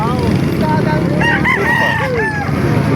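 Several roosters crow over one another amid a dense background of clucking and farmyard noise at a chicken market in Calumpit, Bulacan, loud and close, with a few overlapping calls.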